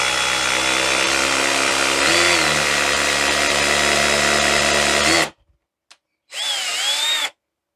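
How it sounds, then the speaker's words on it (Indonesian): A Black+Decker 18V cordless hammer drill in hammer mode gives a long, loud, rattling motor whine for about five seconds. It cuts off abruptly, then one more short burst follows after a brief pause. "Bunyinya der itu artinya hammeringnya jalan guys."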